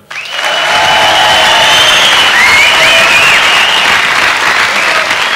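A 1977 concert audience breaks into loud, sustained applause and cheering during the band introductions, swelling quickly after a brief quiet start and holding at full strength with scattered whistles.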